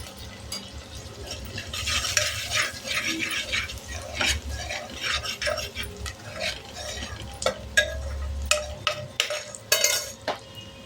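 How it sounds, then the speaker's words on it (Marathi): Onion sautéing in a pan until pink, a steady stirring scrape of a spoon against the pan over soft continuous sizzle, with occasional sharper metal clinks toward the end. "छान गुलाबी होईपर्यंत आपण कांदा परतून घेणार आहोत"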